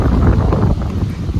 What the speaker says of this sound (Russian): ветер сумасшедший.